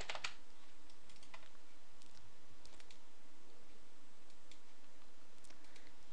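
Rapid computer mouse clicks while selecting music in a music management program, a quick scattered run of sharp, close ticks with no talking.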